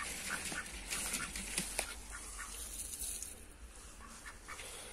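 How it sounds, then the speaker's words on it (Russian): A duck quacks repeatedly in an outdoor yard where a goose also wanders, the calls scattered and moderately close over steady background noise. "Утка, иди отсюда."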